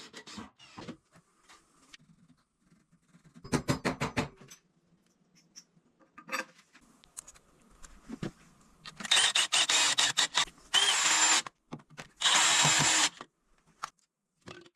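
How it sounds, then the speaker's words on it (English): Intermittent bursts of a power drill whirring and driving screws into wooden studs, with clicks and knocks between, several longer loud runs near the end. "securing them firmly with screws using a drill machine"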